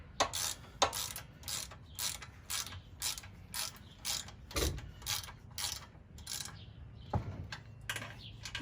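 A hand ratchet tightens aluminum-threaded bolts on a 40 series torque converter, giving steady, close, rapid clicking bursts in a regular back-and-forth rhythm with no talk.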